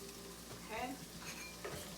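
Plant-based beef sizzles in a frying pan with soy sauce and teriyaki marinade as it is stirred, giving steady close frying hiss and a few scraping strokes across two seconds.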